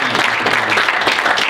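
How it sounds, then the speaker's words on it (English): Dense, steady applause from a seated audience at a board game publisher panel at the Con of the North convention, filling the room with continuous clapping at fairly even loudness from start to end. "one round of applause to Con of the North for giving us the space and donating that to us too"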